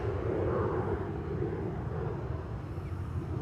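A Tarom Boeing 737-800 jet lines up at Amsterdam Schiphol, its engines a steady distant rumble and hiss under wind noise, with no talk.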